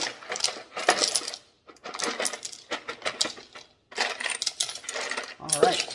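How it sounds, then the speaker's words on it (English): Red jasper rocks clatter and clink as they are tossed in bursts into a 12 lb rock tumbler barrel, several rattling pours separated by short pauses. "we're just going to throw some more of our red Jasper"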